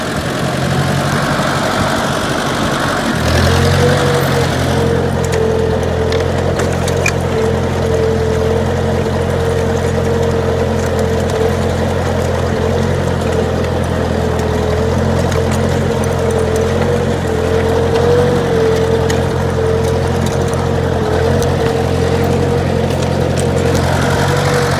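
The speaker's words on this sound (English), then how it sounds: "Set the plowing, see what happens. Going in second gear." A Ford 860 tractor pulls international plows across a field in second gear. Its engine drones steadily and loudly at close range after a brief start, with no talking.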